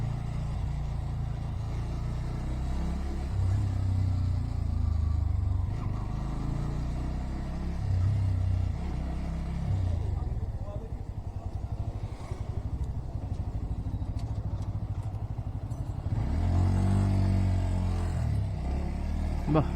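A Bajaj Pulsar NS160 motorcycle ridden along a road, its engine droning steadily with wind rumble and occasional revving swells, while a rider talks over it for much of the stretch.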